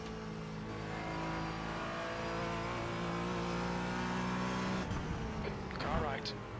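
A race car engine in the iRacing sim racing game during a Falken Sportscar Challenge race, holding a loud, sustained high-pitched drone that shifts pitch with gear changes as another car approaches, with a radio voice talking over it.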